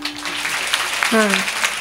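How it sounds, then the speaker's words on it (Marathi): A crowd at a Marathi kirtan applauds with a continuous, even rattle of clapping while a voice briefly sounds over it. "टाळी वाजवा ना थोडं."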